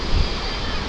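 Strong wind gusts buffet the microphone at a rocky seaside spot by a ruined open-air swimming pool, a loud, close, rushing roar with a brief low thump.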